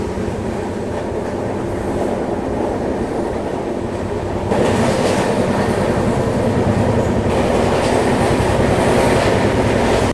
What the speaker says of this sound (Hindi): हमारी ट्रेन जो है वो अचानक से ब्रेक लगी यहाँ पे